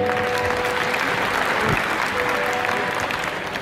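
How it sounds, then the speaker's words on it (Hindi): An audience claps at a live Bhojpuri stage show, a steady wash of many hands applauding loudly with no break, a faint tonal hum running underneath. "इस भाई के नाम पे ताली बजा देंगे"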